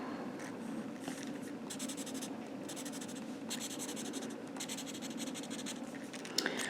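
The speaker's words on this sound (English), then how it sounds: "So I'm going to draw a swimming pool." Pen or pencil scratching steadily across paper while a swimming pool is sketched, a close, continuous scribbling texture with short pauses between strokes.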